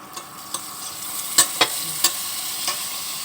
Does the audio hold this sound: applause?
no